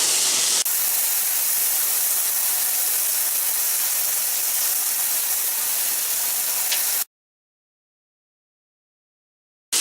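Ground beef seasoned with salt and pepper sizzles in a frying pan, a loud steady hiss that starts abruptly and runs for about seven seconds before cutting to silence, with no voices.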